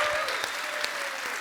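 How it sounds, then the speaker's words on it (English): Brief burst of audience applause at a live London show, a steady crowd patter of many hands at moderate volume with no break. "A round of applause for Steve."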